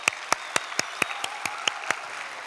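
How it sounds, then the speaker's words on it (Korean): A church congregation at a Korean Sunday afternoon service claps in welcome, celebrating a return to in-person worship after masks come off. Close, crisp claps fall in a steady, even rhythm, about ten in a row, over a softer bed of scattered clapping. "우리 서로 환영의 박수, 승리의 박수 한번 치겠습니다"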